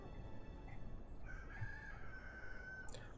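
A rooster crows from a polymorph chicken event in the Crusader Kings 2 strategy game, one drawn-out crow rising over steady background music and ending in a short higher squawk.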